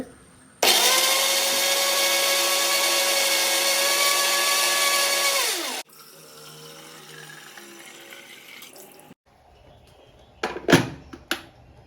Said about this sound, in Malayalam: ഇനി ചട്നിയിലേക്കുള്ളത് കുറച്ച് വെള്ളമൊക്കെ ഒഴിച്ചിട്ടാണ് പ്രാവശ്യം അരച്ചെടുക്കുന്നുണ്ട്